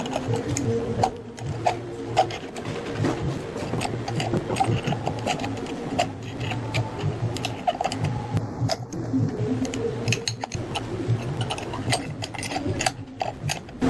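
A loosened glass on a donkey water pump, its threads worn slack, is slowly turned by hand to unscrew it, giving a steady grinding, scraping rub with a repeating mechanical rhythm, close and with no talking.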